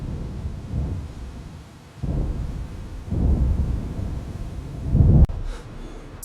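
A raging storm with deep, rolling thunder surges in low rumbling waves, swelling louder across the stretch and ending in a sharp crack, with no voices over it.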